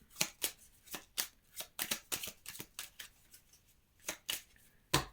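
Tarot cards being shuffled by hand, a quick run of crisp riffling bursts and light flicks, close and fairly soft, with no one talking.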